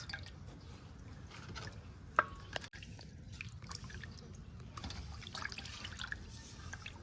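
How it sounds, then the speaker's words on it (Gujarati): Ingredients rinsed under water, with a quiet trickle and scattered drips and splashes, plus a few small knocks. "આવી રીતના આપણે બધું ધોઈ નાખવાનું છે"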